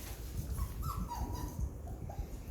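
Seven-week-old puppies whimpering softly in a quiet room, thin high whines and yips rising and falling over a few seconds, faint and close without any voices.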